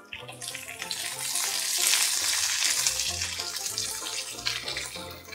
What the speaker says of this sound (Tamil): இன்னும் ஒரு 10 நிமிஷம் வதக்கணும்